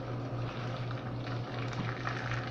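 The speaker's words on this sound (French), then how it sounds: "donc je vais ajouter l'eau bouillante" Boiling water poured into a pot of vegetable soup makes a steady, close, bubbling rush with a constant low hum underneath, unbroken from start to finish.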